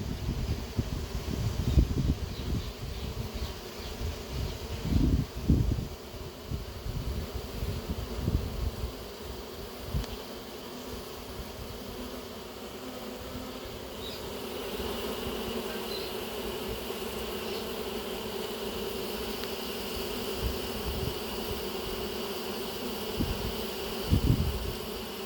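A honey bee swarm package buzzes steadily around a hive entrance outdoors, a continuous droning hum with some rustling and handling noises near the start, and no voices.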